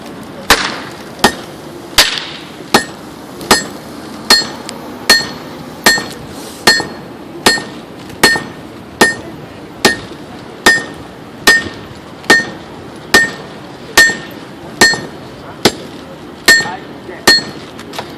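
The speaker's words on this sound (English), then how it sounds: "They're going to demonstrate that here today with a sledgehammer." Sledgehammers striking hot steel at a forge while a team makes a Japanese knife, sharp metallic clanks landing in a steady regular rhythm, about twenty loud close blows with a faint ringing tone after each.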